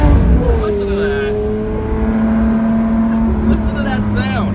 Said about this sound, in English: the hum of the Lamborghini Aventador SV. Listen to that.